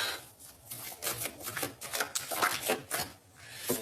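A deck of tarot cards is cut and shuffled up close, a quiet run of rapid riffling and soft rubbing flicks in repeated bursts.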